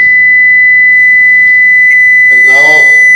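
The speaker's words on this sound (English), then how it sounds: "I would like to play you one tone, which is which comes from one speaker, which has a frequency of 1 kilohertz" A steady 1 kilohertz test tone plays from a single loudspeaker at a keynote speech, holding one pitch throughout, with a brief click and a voice starting to speak over it near the end.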